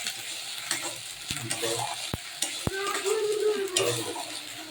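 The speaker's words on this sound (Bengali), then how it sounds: "টমেটো আর পেঁয়াজ ভালো করে একটু ভেজে নিচ্ছি" Tomato and onion paste is stirred and fried in a kadai, a close, continuous sizzle with rough scraping strokes and a couple of sharp clinks of the spatula against the metal, no speech.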